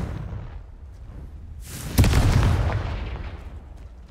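A Confringo fire spell explodes in Hogwarts Legacy: a sudden loud boom with a crackling burst that rumbles and fades over a couple of seconds, after quiet background ambience.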